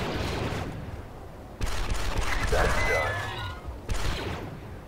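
Blaster gunfire in the Star Wars Republic Commando game, dense rapid shots with crashes and impacts over a few seconds, with louder bursts starting partway through.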